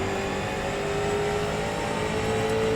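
A street stock race car engine drones at sustained high revs in the iRacing simulator at New Smyrna Speedway, a loud, steady, close roar with no talk over it.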